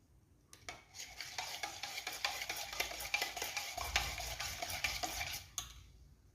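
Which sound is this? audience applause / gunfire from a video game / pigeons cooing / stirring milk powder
stirring milk powder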